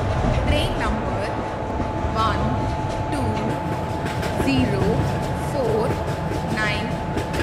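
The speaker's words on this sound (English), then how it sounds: "Gatiman Express is arriving at platform number 3" A Gatiman Express train rolls into a station platform on the Agra to New Delhi route, a steady rumbling rail noise with faint wheel squeals, under a public address announcement and crowd chatter.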